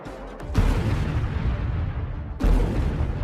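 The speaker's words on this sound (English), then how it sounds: "An RPG was ready. The shot. A hit." An RPG round fired at a Russian tank in the Donetsk region lands as two heavy, booming impacts, one early and one near the end, with a rumbling low wash between them.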